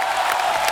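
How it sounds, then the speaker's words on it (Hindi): Studio audience applause on a Hindi TV show, a steady dense wash of clapping with some cheering throughout this brief moment. "जोरदार तालियां होनी चाहिए."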